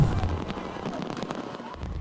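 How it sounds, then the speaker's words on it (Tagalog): Fireworks bursting over Pasay City during a New Year countdown to 2026, a couple of loud booms amid crowd noise in a short, busy stretch. "Nagliwanag ang kalangitan sa pagsabog ng fireworks display sa Engranding Kapuso Countdown to 2026 sa Pasay City."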